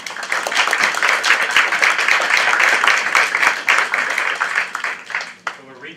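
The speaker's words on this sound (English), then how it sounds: "let's give them a big round of applause" Audience at a morning panel discussion clapping for the panelists, dense sustained applause from a room full of people that swells and then fades out near the end.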